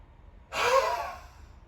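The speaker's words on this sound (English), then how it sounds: "Inhale through the nose. Push the air out." A single forceful breath in a yoga breathing exercise, air pushed sharply out in one strong breathy rush that swells and then fades over about a second, close and fairly quiet, with no talking.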